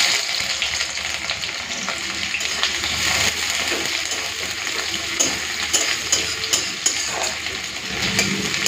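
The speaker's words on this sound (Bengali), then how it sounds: "পেঁয়াজ আর রসুনটাকে লাল করে ভেজে নিয়েছি" Chopped onion and garlic frying in hot mustard oil in a wok, with a loud, steady sizzle and the scrape of stirring throughout.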